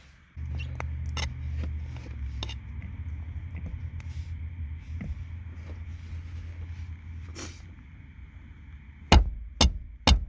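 A mallet hammers a KartBoy short shifter into place in a Subaru WRX, ending in three loud, sharp close strikes after a stretch of low rumbling and scattered clicks.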